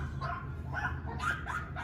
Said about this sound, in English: sorry about the dog sounds.